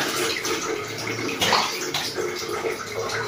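Warm water poured into a bath for bathing someone, a steady close splashing and trickling wash with a few brief surges, no talk over it.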